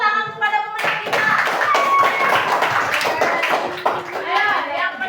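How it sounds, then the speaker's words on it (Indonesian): A classroom of children claps for the winners in a burst of scattered applause lasting several seconds, with a voice heard briefly at the start. "Beri tepuk tangan kepada pemenang kita."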